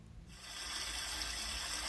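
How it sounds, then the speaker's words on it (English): Hot water gushes from a tap into a sink, a steady broadband rushing that starts abruptly and continues at even loudness, close by and alone. "I filled my sink with hot water and then was ready to add the dye."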